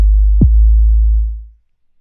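A trap-style 808 kick from a Reason Thor synth patch sounds once as a clean, deep sub-bass boom with a quick pitch-drop click at the attack, sustaining about a second and a half before fading out.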